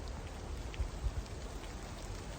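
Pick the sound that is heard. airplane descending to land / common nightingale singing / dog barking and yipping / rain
rain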